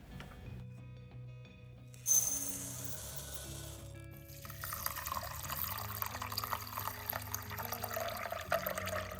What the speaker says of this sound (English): we are going to wash the rice thoroughly and add it to a slow cooker